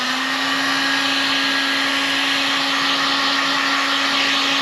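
A heat gun blows steadily on a laminate countertop in a camper, giving a loud, constant motor whine and rushing airflow that holds unchanged throughout with no talking.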